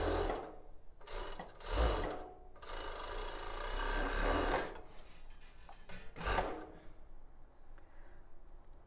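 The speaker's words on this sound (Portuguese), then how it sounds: "essa costura no meio aqui, juntando os 2 lados, aqui na minha máquina overlock" An overlock machine sews a seam on a tulle bra, with short bursts of loud whirring stitching, brief pauses and fabric handling rustles between runs, close by with no voices.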